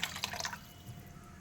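Water poured into semolina in a home kitchen, a short wet splashing burst for about half a second that fades to a quiet low background.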